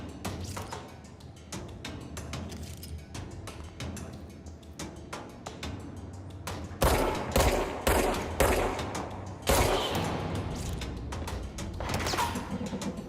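Rapid gunfire from the video game Control, with bursts of sharp shots growing louder and denser in the second half, a dense crackle of automatic fire with impacts.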